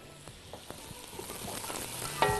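Sausage fries with onions in a pan, making a soft, low sizzle with a few light stirring clicks and scrapes, and no one speaking.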